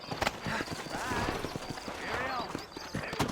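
Horse hooves clip-clopping in the Western video game Red Dead Redemption, a quiet rhythmic trot with a horse whinnying faintly in the middle, mixed with other game sounds.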